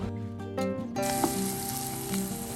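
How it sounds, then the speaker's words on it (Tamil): Pepper and cumin masala frying in a pan over a low flame after onions, for a South Indian crab masala gravy, gives a steady soft sizzle with a few light clinks and stirring scrapes throughout. "ஸ்டவ்வை லோ ஃப்ளேமில் வச்சு மசாலாவை வதக்குங்க."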